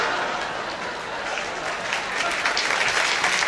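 A studio audience at a Frank Sinatra monologue breaks into sustained applause, a dense, loud wash of clapping that swells slightly toward the end, with no voices rising above it.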